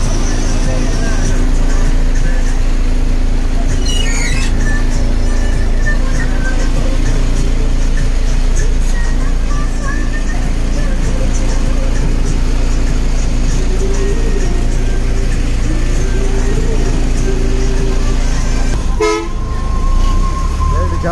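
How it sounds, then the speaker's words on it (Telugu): An APSRTC bus from Tenali rolls toward Chepala Madugu, its engine droning loudly and steadily from inside while horns toot in short bursts and people talk over the noise. "తెనాలి బస్సు చేపల మడుగులో ప్రయాణం"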